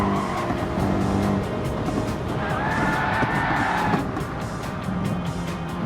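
A Mercedes race car in a racing video game runs wide into the gravel at the Nürburgring, engine droning steadily with a squealing tire skid and gritty rumble of gravel beneath.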